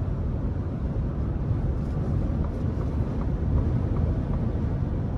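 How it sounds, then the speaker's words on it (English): Steady broadband wind and road roar inside a 2022 Ford F-150 Lariat pickup with a 5.0 V8 cruising on the interstate, a constant even rush with no talk. "the wind noise is just a little prevalent, but not an issue for me at all"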